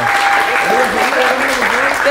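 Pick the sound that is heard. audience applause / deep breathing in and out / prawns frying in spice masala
audience applause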